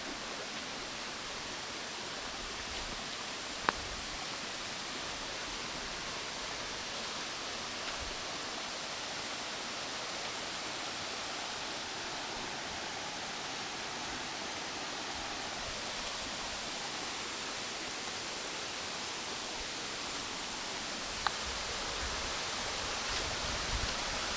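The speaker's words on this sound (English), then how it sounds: "There's a waterfall right here." Steady broadband rush of a waterfall on a nature trail at Carters Lake, continuous and full, with no voices, holding an even level throughout.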